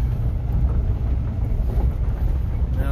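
A heavy Norfolk Southern freight train led by five locomotives rumbles steadily past at close range, a continuous low roar with rattling undertones and no voices.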